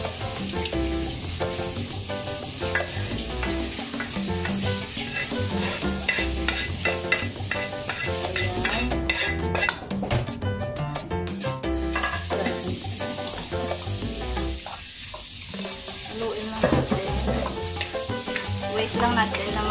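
Peeled shrimp tipped into a hot pan for a Filipino squash dish, sizzling loudly and steadily while a utensil scrapes and stirs in a busy, continuous rhythm close by.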